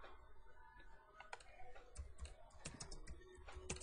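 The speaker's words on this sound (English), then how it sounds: "I'm going to go over here and type in" Typing on a computer keyboard, quiet close clusters of quick key clicks in an irregular rhythm, alone without talk.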